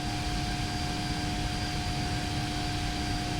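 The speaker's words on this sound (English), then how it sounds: "I kind of tuned down a little bit the sound of the engines" Steady, dense jet engine roar from a PMDG 777-200LR in the Prepar3D flight simulator, a continuous broadband rumble with a faint high whine, constant and unbroken, with no voices.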